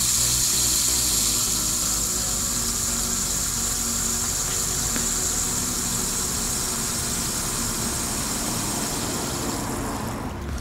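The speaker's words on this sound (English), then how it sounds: "Once you're done, you just let the water out." Water drains from an expandable latex garden hose in a steady, loud rushing hiss that continues evenly for the whole stretch and eases slightly at the end.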